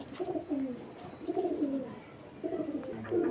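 Pakistani high-flying pigeons, a Nila kamagar breed, coo in repeated low throaty phrases, fairly close and steady, with a few overlapping calls and no talking.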